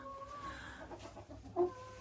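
Soft, scattered clucking from hens, quiet and somewhat distant, with one slightly louder cluck near the end.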